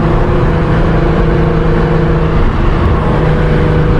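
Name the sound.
Nissan GT-R R35 accelerating at full throttle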